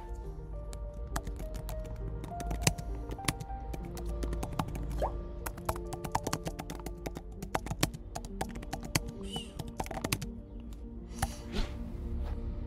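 A prompt is typed on a computer keyboard in a quiet room, with rapid, irregular close-up key clicks that continue throughout with short pauses.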